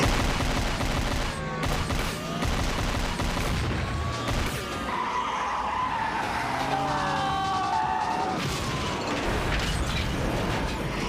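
Gunfire erupts in a busy action scene from a Black Scorpion episode, with shots mixed among mechanical clatter, a car and skidding tires, loud and continuous throughout.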